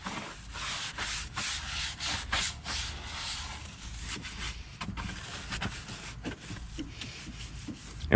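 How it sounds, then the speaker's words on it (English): A large brush scrubs degreaser lightly over the engine bay of a 2019 Toyota Tacoma. Close, steady bristle strokes rub in a quick repeating rhythm, with no voices. "now we're just gonna start lightly scrubbing over everything real fast, just to help loosen up any grime"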